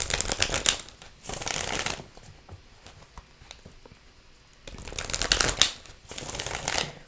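Tarot cards are shuffled up close in quick riffling bursts, three rounds separated by quiet pauses with light handling taps.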